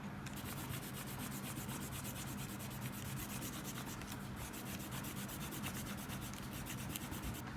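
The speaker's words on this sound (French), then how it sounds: "on peut gommer nos traits de construction" A pencil eraser rubs out construction lines on paper in steady, close, continuous scrubbing strokes with a rapid back-and-forth rhythm, heard alone for several seconds.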